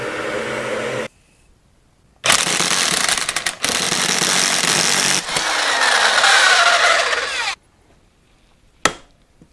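A tool works on a seized cylinder stud on a 1976 Honda Elsinore MR175. Long, loud, harsh bursts of tool noise are followed by one sharp crack as the stud breaks loose.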